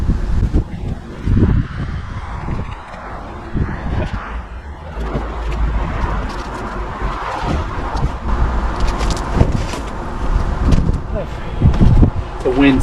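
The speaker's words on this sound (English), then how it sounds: "The wind's fighting me." Gusty wind buffets a house roof during exterior restoration work, a loud, steady rushing roar with surges, and someone talks over it.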